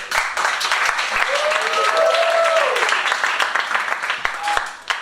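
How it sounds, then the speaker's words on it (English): An audience at an event gives a loud, sustained round of applause for first-time attendees, dense clapping from many hands, with voices and a brief cheer over it. "By round of applause for who is this their first time coming to the laboratory?"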